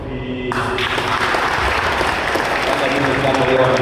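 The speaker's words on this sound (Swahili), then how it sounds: "kwa makofi" Applause from an audience at a St. Cecilia Choir event in Holy Ghost Cathedral: a dense, steady wash of clapping that swells in after a brief quiet start and continues loudly to the end.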